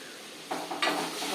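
Sliced onions sauté in a pan for a Karaikudi-style kara kuzhambu, a steady close sizzle with a couple of brief scraping stirs partway through.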